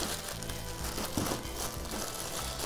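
A plastic bag crinkles and rustles steadily as the charging station of a Lenovo Cleaner E1 robot vacuum is pulled out of it, close and continuous for a few seconds with no voices.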